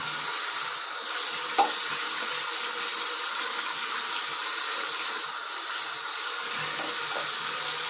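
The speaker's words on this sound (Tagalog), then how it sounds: "Hugasan na natin yung hipon." Shrimp rinsed under a running kitchen tap, a steady broadband rush of water with a few faint clinks, continuous and fairly close, no talking.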